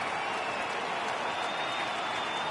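A steady wash of crowd noise and cheering from a stadium in the MLB 18 baseball video game, continuous and broad as fans rise for a full count.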